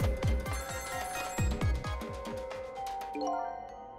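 An internal phone in the video game Ghost Trick rings with a bright electronic trill in quick repeated bursts, layered over dripping, plinking game sounds before fading out.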